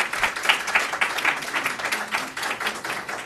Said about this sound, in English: The applause has to stop